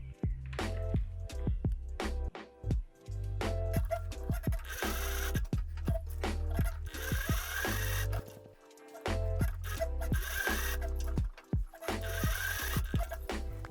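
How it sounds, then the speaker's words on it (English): A sewing machine sews a seam on a backless dress, producing loud, close bursts of rapid mechanical stitching that stop and start in several runs, with brief pauses and some fabric handling between them and no voices. "this is gonna get sewn into the seam on both sides of the front piece"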